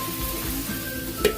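Chayote sautés in a hot pan with a continuous sizzling hiss, and two quick utensil clinks come near the end.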